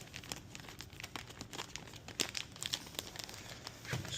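A plastic grain bag for mushroom growing is folded over at its gusset, giving close, irregular crinkling and crackling of plastic with a few sharper snaps.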